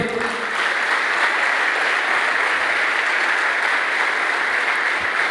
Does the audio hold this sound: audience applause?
yes